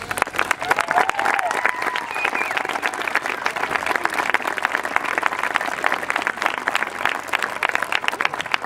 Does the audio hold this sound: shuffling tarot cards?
no